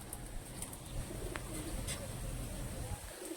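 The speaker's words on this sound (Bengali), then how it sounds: "বাড়ির পায়রা এগুলো" Domestic Madras pigeons coo softly in the background over a steady low hum and faint ambient noise, with a few brief clicks.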